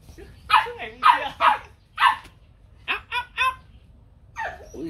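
Dogs barking in short bursts, a group of four barks followed by a quicker run of three and a final yelp, fairly close over a low background hum with no talking.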